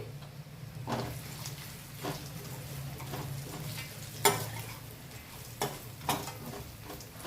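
Boondi fry with onion boondi and oil-fried cashews and peanuts is stirred in a pan, a steady sizzle under repeated scraping strokes and occasional sharp knocks against the pan.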